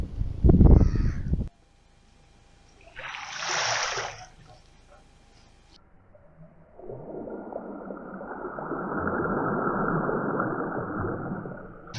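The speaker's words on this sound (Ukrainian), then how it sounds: "Чайки просто балдіють." Seagulls call over the water at a feeder-fishing spot in the Czech Republic: a loud, harsh cry up close, a second shrill call a few seconds later, then a steady wash of water or wind noise.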